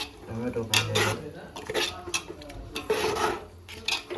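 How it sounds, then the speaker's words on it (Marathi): Chicken biryani gravy with marinated chicken, tomato and onion is stirred in a pot, a spoon scraping and clinking against the metal in uneven strokes, close by, with faint background talk in places. "तर बघू आपण ग्रेव्ही शिजली का नाही, थोडंसं हलवून बघू"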